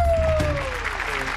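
Studio audience applause on a Kannada reality TV show set, a steady wash of clapping that fills the short stretch at even loudness, with a sustained tone gliding downward across it.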